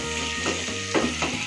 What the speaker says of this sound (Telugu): ఎగ్స్ పసుపు ఉప్పు వేసి ఒక్కసారి అలా జస్ట్ ఫ్రై చేసుకోవాలి.